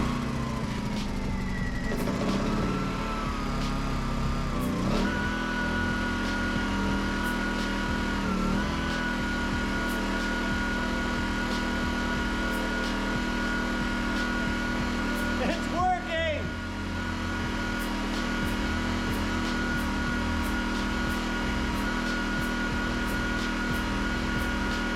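Small carbureted engine running on full choke after pull starting, a steady close drone with a couple of brief revs, while someone speaks over it.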